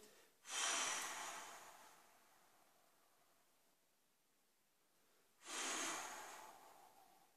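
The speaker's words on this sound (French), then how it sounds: "J'expire." Two slow, breathy airflows come close up in a quiet room during a breathing exercise, each starting abruptly and fading gradually, with a long pause between.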